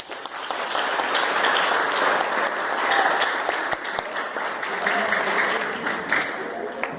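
A crowd applauds steadily, many hands clapping at once, sustained throughout and fading slightly toward the end.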